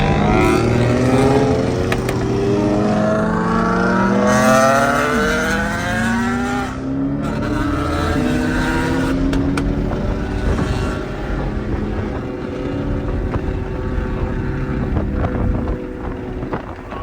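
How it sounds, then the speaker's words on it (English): A lowered Corvette GT4 R race car revs loudly and holds a deep, throaty exhaust note with shifting harmonics, wind buffeting throughout, no talking. "the exhaust is much deeper, but it doesn't really drone"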